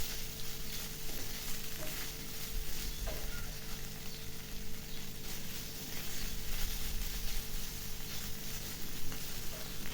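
Tuna fish frying in a pan with ground coriander, cumin and turmeric, a steady close sizzle with occasional crackles and light stirring, no talking.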